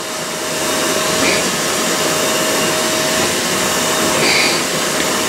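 Shark StainStriker HairPro Pet PX251 portable carpet cleaner suctioning a pet bed, giving a steady, loud whirring motor drone with a faint whine throughout, alone without talk.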